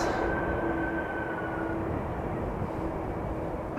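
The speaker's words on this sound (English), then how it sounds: "KLM flight 1442 next, coming in from Aberdeen. It's an Embraer 175, 5 years old, delivered in October 2017." An arriving KLM Embraer 175 airliner on approach to Schiphol's runway 18R makes a steady broadband jet roar that holds at an even level and is heard from some distance.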